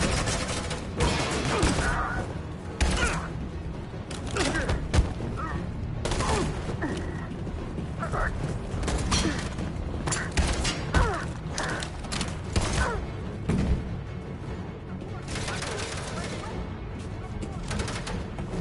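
Gunfire rattles through a tense chase in the video game Detroit: Become Human, bursts of shots and crashes layered over a dense, loud action soundscape with shouting voices.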